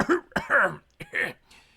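A narrator's voice imitates a seaman's cough, several short harsh bursts of throat clearing and coughing in close succession, near and fairly loud, with no other speech.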